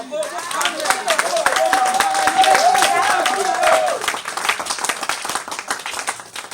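Church congregation applauding in worship, a dense run of rapid clapping with a voice calling out over it early on, then the claps thin into scattered, uneven hits.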